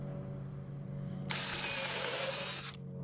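A power drill pre-drilling wood whirs at high speed for about a second and a half over a low background hum, then stops abruptly.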